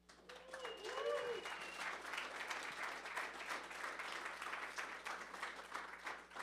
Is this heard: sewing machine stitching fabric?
no